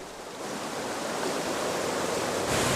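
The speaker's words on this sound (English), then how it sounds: "The Marmore Falls, one of the highest waterfalls in Europe" The Marmore Falls in Umbria, Italy, a 165-meter cascade where the Velino joins the Nera, roar as a dense, unbroken wall of rushing water that swells slightly louder near the end.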